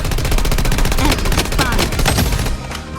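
KAG-6 rifle in the shooter game Blood Strike firing rapid automatic bursts, loud and close, a dense chattering stream of shots that cuts off near the end.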